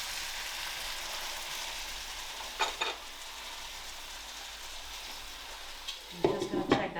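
Chicken pieces returned with their juices to a hot paella pan, giving a steady soft sizzle with brief louder spatters and stirring near the start and end.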